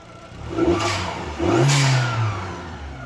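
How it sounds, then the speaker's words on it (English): A Fiat Panda 150HP turbo engine revs up twice in quick succession, rising and falling in pitch each time, close and fairly loud, then settles back toward idle. "I've given it some revs, so it seems to sound pretty good."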